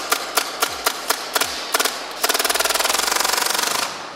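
A Tippmann M4 gas blowback airsoft rifle fires several spaced single shots, then a rapid automatic burst of sharp snapping reports that trails off as the gas runs out, loud and close.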